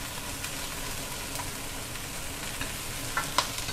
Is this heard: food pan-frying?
yes